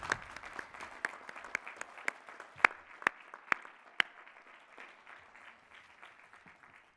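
An audience claps for the 2020 and 2021 Master of Arts and Master of Science graduates at a commencement ceremony, a spread-out crowd applause with several sharp, close hand claps standing out before it gradually thins and fades.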